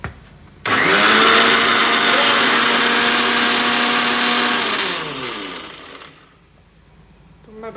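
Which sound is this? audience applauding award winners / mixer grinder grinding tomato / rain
mixer grinder grinding tomato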